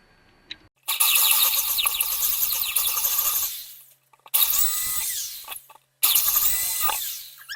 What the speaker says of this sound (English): I drilled out the other one as well